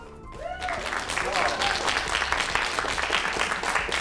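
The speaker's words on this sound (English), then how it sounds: "Really, the applause is all for you." A brief voice at the start gives way to an audience clapping at a film festival, steady applause rising and holding at moderate volume.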